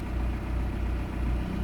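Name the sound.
car engine idling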